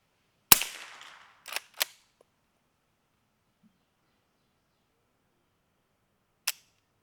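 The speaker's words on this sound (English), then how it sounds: "I'm hearing like a crack downrange and hearing the thud on the dirt." A 300 Blackout rifle shot sends a supersonic bullet downrange; a loud report with a fading tail is followed by two quick, distinct cracks, then quiet and a single faint sharp tick several seconds later.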